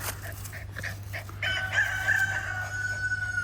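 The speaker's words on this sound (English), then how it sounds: "It's clucks in the background." Chickens cluck faintly in the background, mixed with other fowl sounds and a thin, drawn-out tone over a low steady hum.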